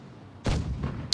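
A tank in a video game firing a high-explosive shell, one sharp loud boom with a rumbling tail that fades off within about a second.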